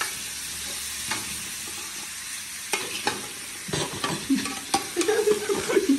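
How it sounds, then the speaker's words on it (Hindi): Saag gets a tadka, with hot tempering oil sizzling and hissing steadily as it is stirred, and scraping and clattering of a spoon and pan toward the end. "मैं चेक करें जी हमारा साग तैयार हो रहा है, तड़का लग रहा है जी"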